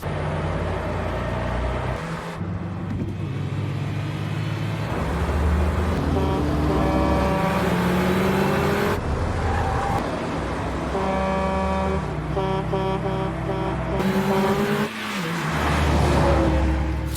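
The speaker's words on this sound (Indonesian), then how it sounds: "Lisa mencoba menyalip truk besar." A car struggling to overtake a large truck on the road, engine revving and straining loudly with repeated horn blasts and a deep truck drone, shifting tones throughout.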